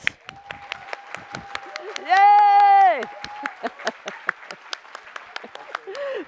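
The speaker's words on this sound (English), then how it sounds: "Then we go immediately to the applause." Scattered audience clapping at a judged contest, sharp separate claps in a steady patter, with a voice calling out a long cheer midway through.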